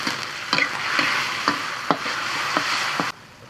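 Eggs being stir-fried and broken up in a wok before Chinese toon sprouts go in, with constant close sizzle and sharp spatula knocks roughly every half second, ending abruptly.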